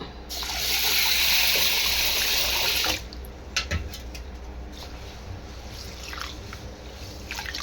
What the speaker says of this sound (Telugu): ఇంకోసారి అయితే కడిగేసుకున్నాను చూడండి ఇలా నీట్గా అయితే కడిగేసుకొని నానబెట్టేస్తాను